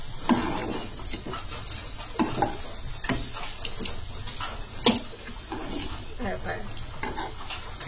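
Pulao ingredients, including field beans, being stirred and mixed in a pot, with repeated spoon scrapes and clinks over a gentle sizzle, continuous and close.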